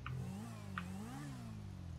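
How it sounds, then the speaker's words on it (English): A Yamaha R6 motorcycle with a custom exhaust in a GTA 5 game revs with a smooth, rising and falling engine drone, steady and fairly close, with two brief high chirps over it. "This is my R6 that I told you guys I own. I got my exhaust. It's a custom exhaust."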